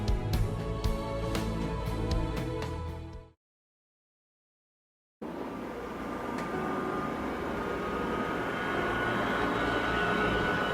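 A fighter jet is prepped for takeoff in the video game Ace Combat 7. A steady engine whine and broad roar runs for a few seconds, drops to sudden silence, then returns as a continuous low rumble with a faint high tone.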